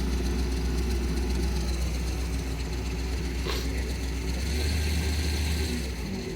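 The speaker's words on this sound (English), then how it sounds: "See how she idles. There's idle right there. Just a smooth little lope." A 1987 Malibu Sunsetter boat engine idles with a steady, loud, low rumble and a smooth, even lope that holds throughout.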